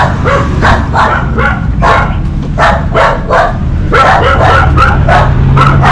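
Several dogs on a farm in the Philippines bark repeatedly in sharp, overlapping bursts, fairly close and loud, with a low steady rumble underneath.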